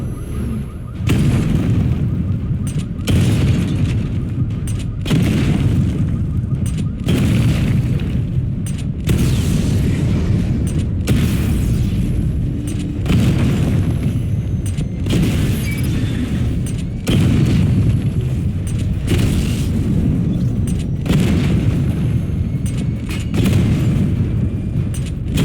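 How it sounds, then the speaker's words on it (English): Batmobile missile barrage in Batman Arkham Knight: a long run of heavy, rumbling booms arriving in regular waves every couple of seconds, loud and continuous with no talk. "Charge the missile barrage to level 2 to destroy up to 4 targets at once."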